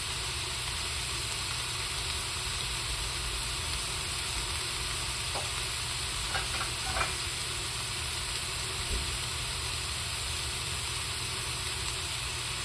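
Beef pieces searing in a pan for curry, a steady low hiss and sizzle holding constant throughout, with a few faint clicks midway.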